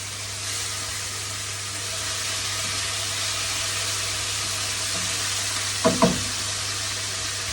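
Miso honey bass fillet fried skin side down in a pan gives a steady, close sizzle throughout, with a couple of brief louder crackles or pan knocks near the end and no talk.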